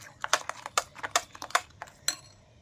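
Batter made with 200 grams of new jaggery being mixed in a bowl, giving light irregular clinks and scrapes of a utensil against the bowl, close and fairly quiet.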